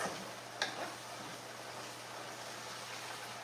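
Cubed chicken for teriyaki cooks in a pan with a faint, steady sizzle and hiss as its juices cook off, joined by a low hum and one brief clink near the start.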